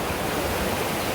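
The Sera Khola mountain stream rushes in a steady, loud, unbroken wash of water noise, close by, with no voices.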